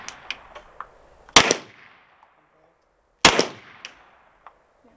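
Two loud gunshots ring out about two seconds apart, each a sharp crack with a decaying echo, preceded by a few faint clicks and taps; no one speaks.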